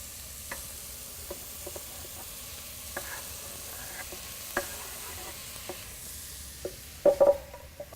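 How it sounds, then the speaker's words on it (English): Bacon frying in a pot gives a quiet, even sizzle with sparse small ticks and pops, then a brief louder clatter near the end, with no voices. "Now we can add our bacon."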